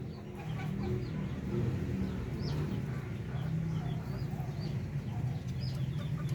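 Darag native chickens on a farm in Zaragoza, Nueva Ecija, cluck and call in a steady flock chorus, with soft scattered chirps over a continuous low barnyard hum.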